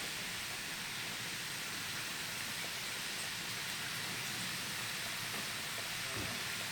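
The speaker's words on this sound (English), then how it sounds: "to enhance the taste of my grated carrot recipe, I'm adding in some full cream milk" Full cream milk goes into grated carrot frying in a pan, giving a constant, even sizzle like light rain that runs unbroken and fairly soft throughout.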